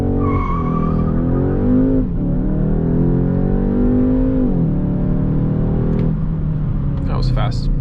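A 2021 Škoda Octavia RS launches hard using launch control at night, its engine revving up through rising pitch sweeps and shifts, loud and close, with a brief squeal near the end.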